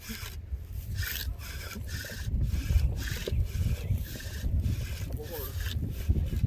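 Wooden spindle spun in a friction fire set at an outdoor bushcraft gathering, giving a steady rasping rub that swells and fades in repeated strokes, with faint background voices.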